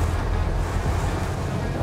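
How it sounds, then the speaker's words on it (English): Steady rushing blow of air conditioning inside a 750HP Survivor Series C10 pickup, a broad even whoosh with low rumble, constant and fairly close, no voices over it. "A little AC going there. A little conditioned air."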